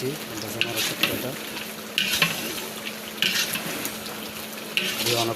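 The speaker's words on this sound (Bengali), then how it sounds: "দিয়ে অনেকক্ষণ ধরে এটাকে কষাতে হবে।" Spiced masala for chicken jhal fry sizzling in a pan while being stirred, a steady frying hiss with sharp scraping spoon strokes at roughly one-second intervals, close and moderately loud.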